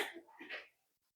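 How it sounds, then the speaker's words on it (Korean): A short, faint cough from chalk dust in a classroom, two or three quick rough bursts lasting under a second and then silence. "마스크 안 쓰니까 앞에 분필가루 때문에 기침이 또 나오네."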